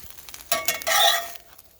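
Food frying in avocado oil in a pan, a short crackling sizzle that swells to a loud burst near the middle and then fades, with no voices.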